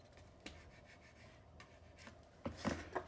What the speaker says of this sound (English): Just gonna burnish those tabs down.